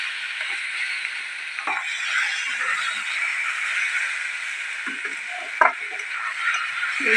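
Mutton fat sizzles gently in a pan over low heat, a constant soft frying hiss with occasional light knocks and scrapes of a spoon stirring, including one brief louder clack.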